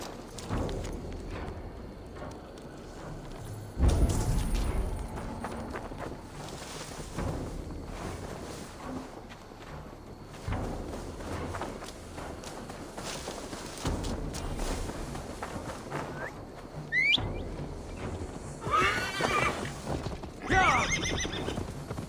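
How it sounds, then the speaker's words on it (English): A horse in Assassin's Creed Valhalla clip-clops along with hoofbeats over ambient game sound, then whinnies loudly near the end with a couple of sharp neighs. "Now to deliver Magni his horse"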